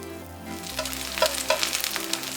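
Chive pancake batter sizzles steadily in a hot pan as a spoonful is added and shaped into a round, with close crackling and light scraping.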